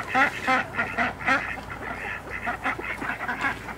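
Ducks on a small farm quack in quick, loud, close bursts, a rapid run of calls overlapping one another throughout.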